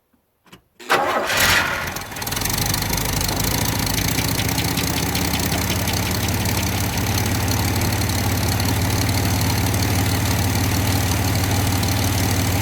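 A 1982 Chevrolet S-10 pickup, off the road for 19 years, cranks briefly and fires up, then settles into a loud, steady idle that runs on with a slight knocking roughness.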